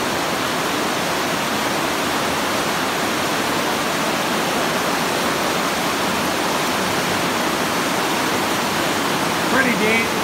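Water flows steadily through Tytoona Cave in Pennsylvania, a dense, even rushing that fills the space without pause for about ten seconds. No voices are heard.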